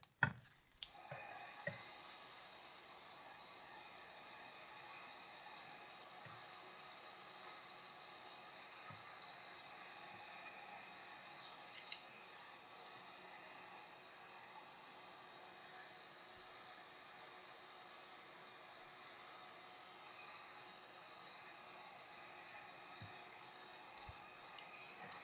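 A handheld dryer blows a steady, faint whir over an art journal page for a long stretch, with a few sharp clicks and taps at the start and end.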